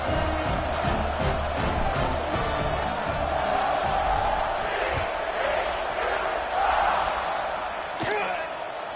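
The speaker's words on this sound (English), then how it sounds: "this crowd is buzzing after that last score" A stadium crowd buzzes steadily in an American football video game after a score, a dense continuous roar with occasional louder swells and a sharp thump near the end.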